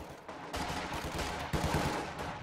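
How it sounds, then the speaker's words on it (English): Soviet conscript squads fire rifles during a 2v2 Company of Heroes 2 match, producing a dense, continuous rattle of overlapping shots that swells in two waves over a battlefield din, with no speech. "His conscripts firing"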